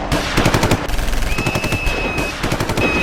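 Staged machine-gun fire in a Ganesh Chaturthi festival performance depicting a group being shot, loud rapid bursts of rattling shots with a thin high tone running through parts, close and without talk.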